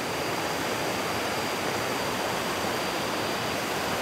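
A waterfall pours beside swimming holes near Chiang Mai, Thailand, making a steady, dense broadband rush of falling and flowing water that does not change in loudness and has no voices over it.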